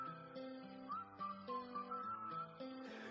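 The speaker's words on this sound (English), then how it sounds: "It's the Josh Hutcherson whistle." The Josh Hutcherson whistle meme tune plays as a bright, melodic line of clear stepping notes over a low accompaniment, steady and fairly quiet, in a rhythm game map, with no voices.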